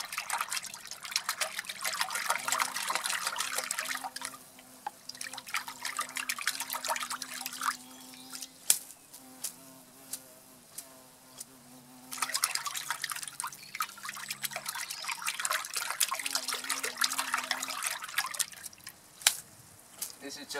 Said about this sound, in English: I usually do about two or three spins in the big bucket.